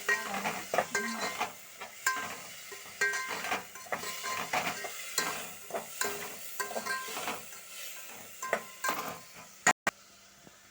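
Tomatoes and onions sautéed with a ladle in a pan for bitter gourd kara kuzhambu, soft sizzling under repeated scraping and stirring strokes of the ladle, close but quiet, with a sharp clatter near the end.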